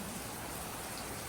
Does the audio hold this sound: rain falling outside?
yes